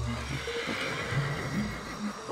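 Horse whinnies from the video game Ancestors: The Humankind Odyssey, a few short wavering calls in the middle distance over a continuous ambient game backdrop.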